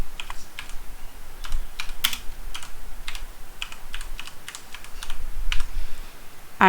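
Keys clatter on a computer keyboard as HTML text is typed, a close, steady stream of light clicks with brief pauses and a few sharper key hits, no voices.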